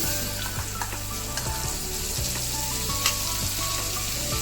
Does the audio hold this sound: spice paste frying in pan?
yes